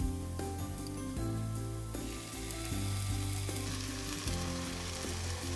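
Vegetables sautéing in a pan with Worcestershire and soy sauce and ground sage for a vegan meatloaf, a dense, loud continuous sizzle with occasional stirring scrapes and no voices.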